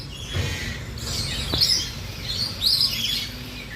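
Parrots on a safari outing give bright, repeated chirps and a couple of sharper squawky calls over steady outdoor background noise.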